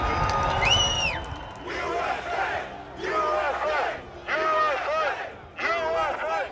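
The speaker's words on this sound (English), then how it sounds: "There's a crowd surge heading east" Chanting, shouting crowd of marching protesters surging forward, loud and close, voices rising in repeated bursts with whoops and cries between them.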